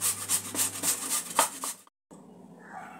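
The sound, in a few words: grating potato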